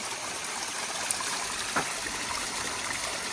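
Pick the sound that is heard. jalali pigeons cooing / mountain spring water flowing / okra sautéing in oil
mountain spring water flowing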